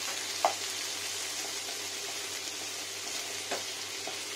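Bitter gourd frying in a pan without salt, giving a low, even sizzle throughout, broken by a couple of light utensil taps, close and fairly quiet, with no talking.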